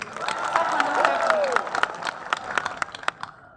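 Audience clapping and cheering at a BJP political rally with Amit Shah in Mon town, a dense, steady wash of applause with scattered sharp claps and a voice speaking over it.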